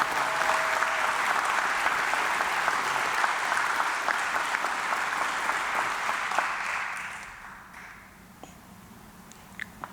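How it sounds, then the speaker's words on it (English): Sustained applause from the audience at a police academy graduation, a full crowd clapping steadily before fading out to near quiet with a few scattered last claps. "How about a round of applause?"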